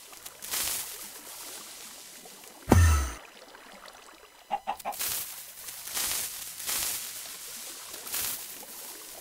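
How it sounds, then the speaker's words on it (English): A chicken in Minecraft clucks in short, scattered bursts amid game noise, with one sudden loud thud or splash partway through. "I know we didn't kill it because I hear it still clucking."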